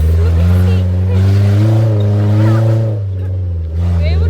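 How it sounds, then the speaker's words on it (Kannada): A jeep on an off-road trip toward a waterfall idles and pulls away with a steady, loud low engine drone that rises slightly in pitch, while people talk over it. "ಗಾಡಿ ಸ್ಟಾರ್ಟ್ ಮಾಡ್ಕೊಂಡು ಹೋಗ್ತಾ ಇದೀವಿ"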